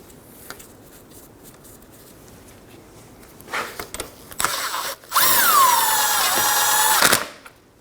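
A power tool whirs in short bursts, then runs in a sustained high-pitched drive while bolts are run into a Ford Edge 2.0L AC condenser, close and loud, ending abruptly.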